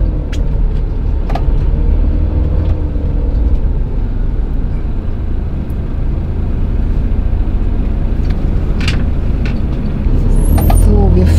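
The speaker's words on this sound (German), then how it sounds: "Wir fahren jetzt einmal gleich von der Waage herunter" An Adria Twin Supreme 640 SGX camper van pulls off a weighbridge, its engine running steadily and close by throughout, with a faint hiss near the end.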